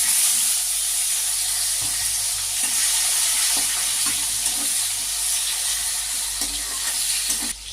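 Bay leaf, cumin seeds and chopped tomato fry in hot oil for a Bengali boal fish curry, giving a steady, close sizzle with light stirring scrapes throughout and no talking.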